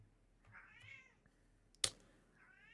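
A cat meows twice, a rising drawn-out call followed later by a shorter one, close by in a quiet room, with a single sharp click in between.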